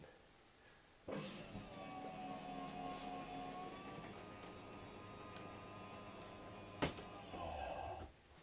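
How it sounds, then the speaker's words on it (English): A slide-out motor on a 2023 CrossRoads Cruiser Aire 27RBS travel trailer hums steadily as it retracts the slide. The drone starts abruptly and runs for about seven seconds, with a brief clunk near the end. "I want to close up the slide and see what it looks like with the slide in."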